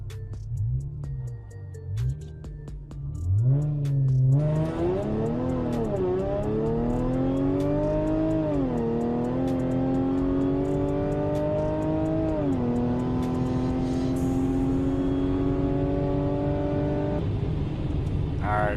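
A 2013 S5 with a dual pulley upgrade, running on winter tires, accelerates hard on a street run. The engine note climbs loudly and steadily through several gears, with brief dips at each shift, close and unbroken.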